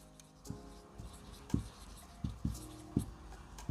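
Pen writing numbers on paper or a board during a maths lesson on prime factors: a series of close, crisp taps and short scratchy strokes in an irregular rhythm.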